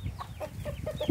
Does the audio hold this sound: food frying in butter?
no